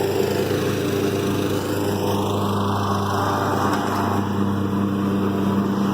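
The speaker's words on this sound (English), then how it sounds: "My neighbor mowing." A neighbor's lawn mower runs steadily through the whole stretch, a continuous droning engine hum at moderate distance in a garden setting, with no talk over it.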